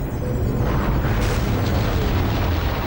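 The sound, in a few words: powerful rocket launch roar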